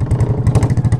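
A KTM RC 200 motorcycle engine revs up close and loud, its exhaust pulsing in a rapid, regular throb.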